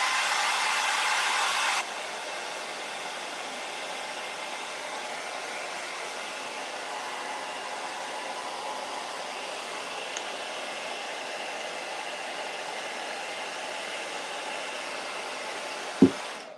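A hair dryer blows steadily close by, drying paint on a wooden door hanger, a broad even whoosh that drops slightly after two seconds and runs on before a bump near the end.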